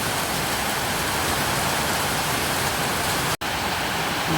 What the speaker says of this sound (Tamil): கனமழை.